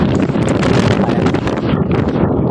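Strong, steady sea wind roaring across the microphone on a beach in Camarines Norte in the early morning, with a broad rushing texture, loud and continuous throughout, with no voices.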